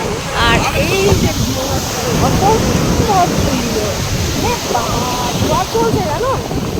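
Sea waves at Alleppey beach in Kerala during a strong high tide at sunset make a loud, constant rushing wash with wind buffeting the microphone, while several people chatter and call out over it.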